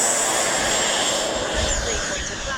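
An FMS F-16 70mm electric ducted-fan RC jet takes off, its fan a steady, loud, high whine and rush that shifts slightly in pitch as it climbs away, with no pauses.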